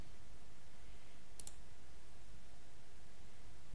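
A computer mouse on a Windows 10 laptop gives one quick double click, sharp and close, against a faint steady background hiss.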